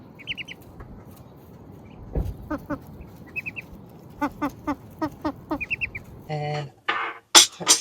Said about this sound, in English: You baby duckies. Oh, you're so cute.